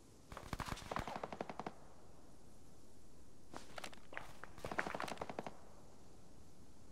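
Bursts of machine gun fire in the Arma 3 Antistasi combat game, several rapid rattling volleys at middle distance, separated by pauses over a low ambient hiss.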